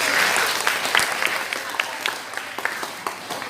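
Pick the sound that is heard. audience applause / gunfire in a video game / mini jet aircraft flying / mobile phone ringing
audience applause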